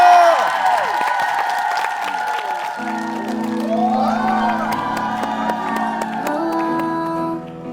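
An audience claps and cheers at a debut stage performance, with whoops and shouts over sustained applause while music-like tones swell underneath.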